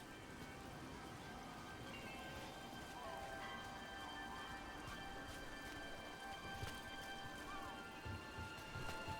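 Steady rain falling in a fantasy game world, a soft continuous patter and hiss at low volume with scattered drips, lasting throughout with no talk.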